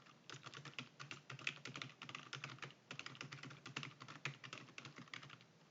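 Rapid, steady computer keyboard typing in a spreadsheet, including spacebar presses, a dense run of close, quiet clicks with no talk.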